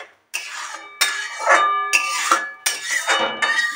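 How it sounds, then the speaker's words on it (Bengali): A spoon scrapes and clinks against a pot while homemade ghee is stirred, in four distinct repeated strokes with metallic ringing, close and clear with no talking. "এটা নাড়াতে নাড়াতে একটু ফুটলেই ঘি টেনে যাবে।"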